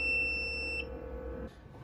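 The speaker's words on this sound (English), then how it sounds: "if the humidity is lower than the desired humidity, the alarm will sound" An egg incubator's low-humidity alarm sounds a steady electronic beep close by for about a second over a low mechanical hum, then cuts off.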